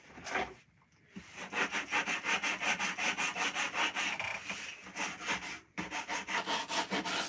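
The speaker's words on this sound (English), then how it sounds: "this looks like it needs sanding" Wood being sanded by hand in steady back-and-forth strokes, a rhythmic raspy scrubbing close by with two brief pauses.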